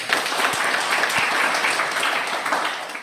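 Students in a classroom applaud together, a steady, fairly loud patter of many hands with a couple of sharper individual claps, tapering slightly at the end.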